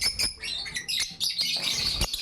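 Two breeder pet birds chirp close by in quick, bright, irregular bursts of tweets, with little background noise.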